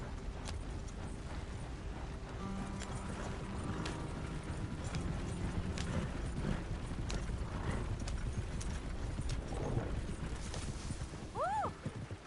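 Rhythmic clip-clop of horse hooves at a steady trot in the video game Red Dead Redemption, with faint mechanical creaks and a short whinny near the end.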